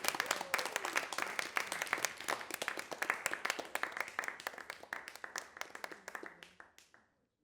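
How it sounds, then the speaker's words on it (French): Enthusiastic applause from a crowd, brisk clapping that holds steady for several seconds before thinning out and stopping. "Sous vos applaudissements, s'il vous plaît."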